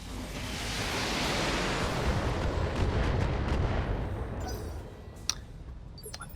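A BattleTech mech unleashes a volley of LRM missiles in the video game, a broad rushing roar of launches and blasts swelling then fading, followed by a few sharp distant impact cracks near the end.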